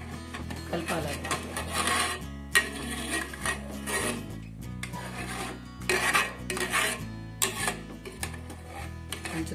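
Milk in a pan is stirred for the Indian sweet Basanti, with repeated rasping scrapes around the edges and bottom. The scraping sits under loud background music.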